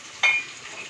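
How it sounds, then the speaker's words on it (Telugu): A short sizzle as ingredients hit a hot pan for fried rice, a sudden hiss that quickly fades to a low frying crackle, heard alone. "గోల్డెన్ బ్రౌన్ వచ్చేంత వరకు వేయించుకోండి"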